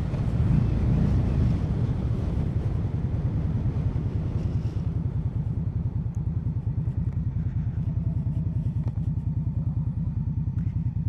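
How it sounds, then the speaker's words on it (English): A 2021 Indian Scout motorcycle engine brakes while being ridden, giving a steady low rhythmic rumble with a strong wind rush over it for about eleven seconds and no voices. "Oh yeah, there's the engine braking."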